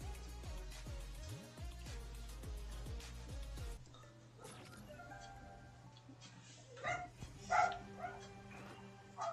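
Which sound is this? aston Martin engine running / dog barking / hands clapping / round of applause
dog barking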